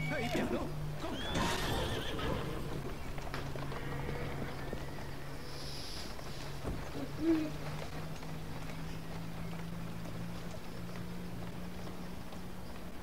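In the video game Assassin's Creed Syndicate, horses whinny amid clip-clopping hooves, with the game's steady background ambience running throughout the long stretch.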